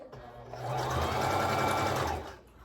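A sewing machine stitches through a wig in one continuous whirring run that starts up, holds steady and loud for about a second and a half, then slows to a stop.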